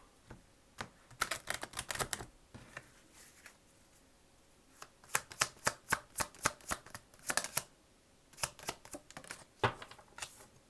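Lenormand cards shuffled in repeated quick riffling bursts, crisp papery flutters in clusters with short pauses between, close and fairly quiet with no voices.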